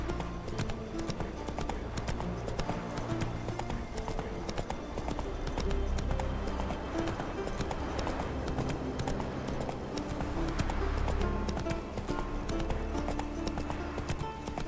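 A horse in The Witcher 3 video game gallops with rapid, rhythmic hoof clip-clops that run continuously and prominently, without talking.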